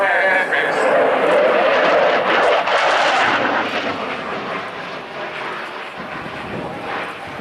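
A Mikoyan MiG-29A jet fighter performs a flying display at RIAT 2016, its loud jet roar broad and rushing, swelling early then slowly fading with some wind buffeting on the microphone.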